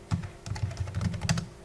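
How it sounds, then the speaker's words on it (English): Typing on a computer keyboard, a quick irregular run of close, crisp key clicks and taps lasting under two seconds, with no voices over it. "I'm typing"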